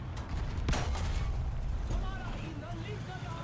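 Tank cannon fire in the War Thunder video game: a single sharp, heavy blast rings out early in the clip over a steady low rumble of battle noise.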